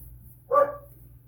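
A single short dog bark rings out at medium distance over a low steady background hum, with no speech.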